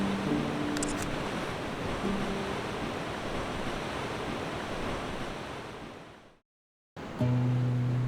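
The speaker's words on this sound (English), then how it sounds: "anyone who wants to come and see the waves crashing against the massive stone walls" Ocean waves crash against massive stone walls in Porto, a loud, continuous roaring surge of surf that fades into a brief silence before another burst of crashing water returns.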